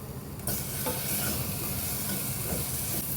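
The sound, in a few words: peppers sautéing with garlic in oil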